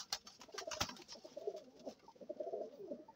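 Soft, repeated pigeon cooing in low throaty rolls, close by, with a few light flutters and taps early on.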